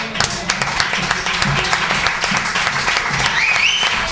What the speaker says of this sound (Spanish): os vamos a dar un aplauso los dos a ustedes